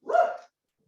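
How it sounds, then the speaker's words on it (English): A single short dog bark, fairly clear but set back in the room, sounding once and then leaving silence with no talk over it. "I guess the dog is excited about this project as well."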